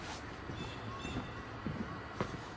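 Several geese honk at a distance outdoors, a few faint calls scattered over steady background hiss, with other birdsong around.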